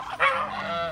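A goose honks once, loud and close, as farm geese and Peking ducks crowd around their keeper in the morning.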